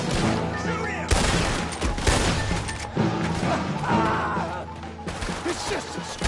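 Gunfire in the Western game Red Dead Redemption 2, several loud, close shots striking in sharp bursts roughly a second apart over a busy, noisy game scene.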